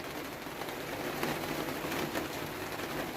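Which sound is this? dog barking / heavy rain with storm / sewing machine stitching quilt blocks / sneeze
heavy rain with storm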